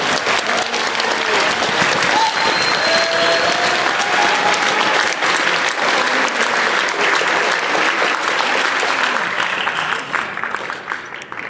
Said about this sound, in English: can we please give one more huge round of applause to Dr.